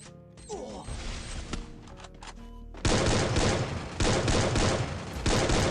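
Gunfire and a grenade blast in the Free Fire video game, with mechanical clicks and bursts of rapid shots followed by loud, dense sustained firing in several waves.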